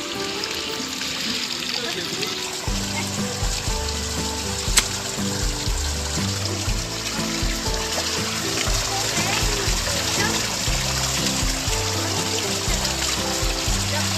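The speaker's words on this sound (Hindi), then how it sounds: "तो देखिए रास्ते में एक झरना था जो मुझे बहुत ही सुंदर लगा।" A waterfall beside the trail up to Prashar Lake in Himachal, heard as a steady rushing, splashing flow of water that continues without a break, with a low rumbling layer joining in after the first few seconds.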